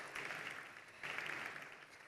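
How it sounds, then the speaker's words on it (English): Awards-ceremony audience applauding nominees, a steady wash of clapping that swells again midway and carries on without talk. "A huge round of applause for them."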